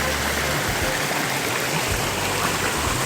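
Water rushes steadily at Wang Kan Lueang waterfall in Thailand, swollen and murky after overnight rain, making a loud, dense, continuous roar with no break.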